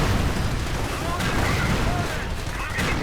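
Sticky bomb blasts and battle noise in the World War II strategy game Company of Heroes 2, with a dense, continuous rumble of explosions and gunfire filling the whole stretch at steady loudness.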